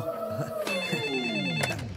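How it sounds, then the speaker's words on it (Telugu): A telephone rings in a Telugu movie scene, with bright electronic ring tones sounding steadily and loudly, layered over other scene sounds. "ఫోనే మోగుతుంది."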